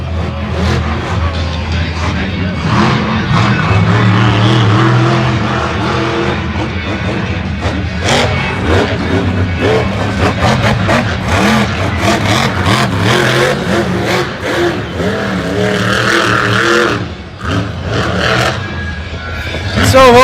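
Monster truck Hooked roaring through a Monster Jam stadium run in Las Vegas, its engine revving hard in repeated loud surges and bursts, with crowd noise and commentary over it.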